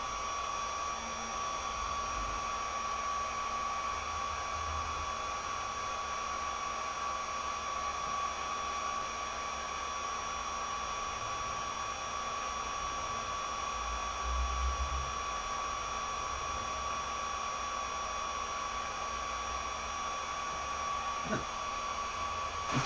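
Small cooling fan of an ISDT discharger running while a lipo battery discharges, a steady whirring hum with a faint high whine, constant and close throughout, with no talking.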